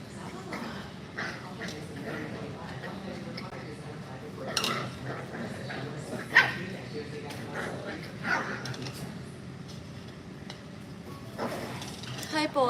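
Morkie puppies from an all-male litter of small, non-shedding dogs yip and bark in short scattered bursts, mixed with clattering and handling noises, with a person talking throughout.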